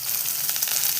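Garlic fries in hot oil in a pan for carrot rice, giving a short, steady, close crackling sizzle.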